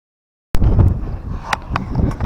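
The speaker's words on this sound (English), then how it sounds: "it's turned into a very windy day" Strong wind gusting outdoors on a windy day at a garden tree-removal job, buffeting the microphone with loud rumbling bursts after a brief silence.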